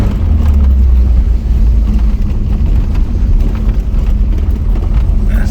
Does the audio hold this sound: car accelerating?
yes